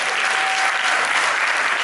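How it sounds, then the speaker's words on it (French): Audience at a junior mass band concert in Grande-Synthe claps steadily, a dense, loud wash of applause sustained throughout with no pauses. "Je vous demande d'applaudir Christophe Roussel"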